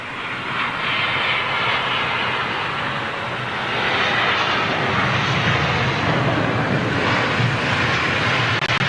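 Airliner climbing out from London Heathrow, a broad steady engine roar that swells gradually and holds loud throughout, with no talk over it.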